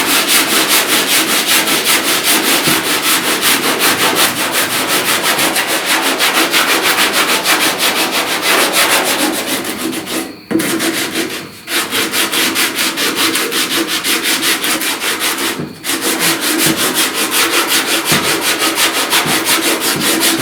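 Body filler on a dented truck cab corner is sanded in a continuous loud, close, raspy scrubbing that runs steadily, with a few brief pauses.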